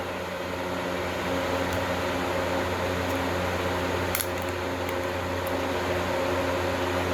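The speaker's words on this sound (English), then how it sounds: "Sorry for the fan noise." A steady fan whirs in a garage with a constant hum and airy hiss, with an occasional faint click and no talking.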